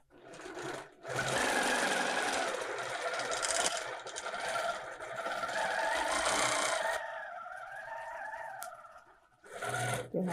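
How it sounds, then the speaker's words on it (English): A longarm quilting machine stitches through several layers of bulky fabric while making a bag, running in a steady, loud mechanical whir for most of the stretch, with a brief pause near the start and a short restart at the end. "you're quilting through several layers of fabric right now"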